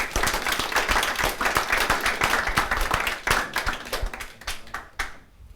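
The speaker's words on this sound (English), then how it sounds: "Give them both a round of applause." A live audience applauds two participants at a rent-to-rent masterclass, with dense, fairly close hand clapping that continues for several seconds and then thins out and fades.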